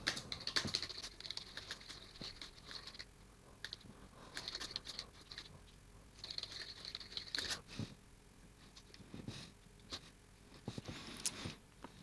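Practice notes typed on a computer keyboard: light, close keystrokes in uneven bursts and short runs, soft and quiet with brief pauses between flurries.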